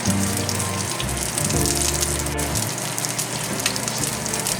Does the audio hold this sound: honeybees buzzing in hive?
no